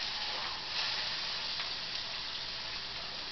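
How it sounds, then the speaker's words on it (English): Seasoned food searing in a very hot skillet, a steady, even sizzle and hiss that holds at moderate volume throughout. "I got my skillet heating really high. And what I want to do, I want to sear and get a color on here."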